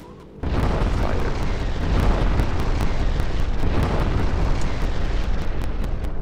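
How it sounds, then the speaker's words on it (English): Howitzer and mortar fire aboard an airship in the video game Gmod, a dense, continuous roar of booming blasts with a rapid stream of sharp crackling reports layered over it, loud and sustained after a brief quiet start. "The howitzers could easily take it down, and the mortars are even more powerful, even though you have to go into close battle and fire them."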